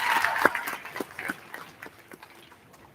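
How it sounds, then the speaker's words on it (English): An audience at a high school graduation ceremony claps in a scattered, thinning burst of applause that fades over a few seconds, heard from a distance. "We get another round of applause for Mr. Timothy Hagan."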